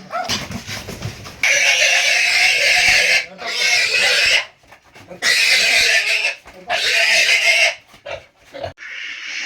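Pigs on a local pig farm squeal loudly in several long, harsh bursts separated by short pauses, with grunting and snorting between the shrieks, close to the recorder.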